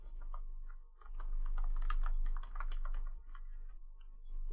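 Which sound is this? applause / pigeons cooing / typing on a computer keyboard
typing on a computer keyboard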